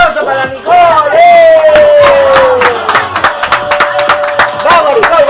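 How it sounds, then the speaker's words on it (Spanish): Guests at a birthday party for Nicole let out a loud, drawn-out shouted cheer, followed by scattered hand claps and excited voices close by. "¡Un aplauso para Nicole!"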